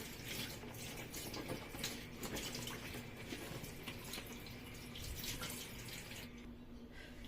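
Tap water runs steadily into a kitchen sink during washing while moi moi is being prepared, a continuous splashing hiss that stays even and moderately close with no talking.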